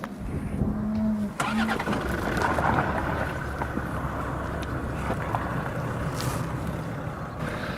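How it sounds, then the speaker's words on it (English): Standard family four-wheel drive vehicle on basic off-road tyres climbing an off-road hill, its engine droning loudly and steadily under load, with wind rumble and no talk. "even on your standard family four-wheel drive vehicle, with standard basic off-road tyres, momentum will actually get you up this hill"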